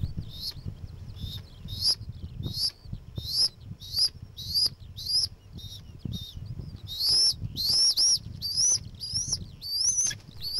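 A skylark calls from the grass in a steady series of short, bright chirps, about one per second, growing denser and more trilled toward the end over a low rumbling background.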